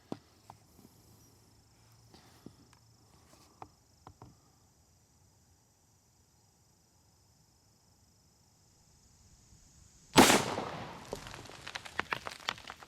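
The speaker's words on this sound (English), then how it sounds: "So now I'm going to take the second shot." A single Brenton USA .350 Legend rifle shot cracks out loud and sharp after a long, quiet stretch of faint outdoor insect chirps, followed by a decaying echo and scattered small clicks.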